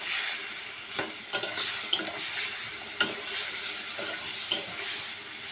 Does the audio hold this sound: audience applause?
no